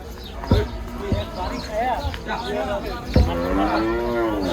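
A cow gives a long, low moo close by at the Gabtoli cattle market in Dhaka, with other cattle and people talking in a busy, noisy outdoor setting.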